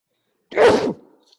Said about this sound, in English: I assure you that it's not a COVID-19 sneeze.